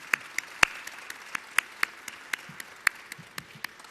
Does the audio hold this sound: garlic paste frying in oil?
no